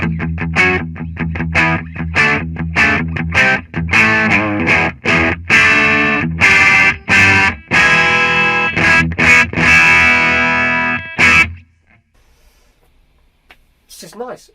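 Electric guitar through a Marshall DSL 40c valve amp on its clean channel, strummed in loud rhythmic chord bursts with a slightly hairy edge, ringing sustained chords, then cutting off to near silence.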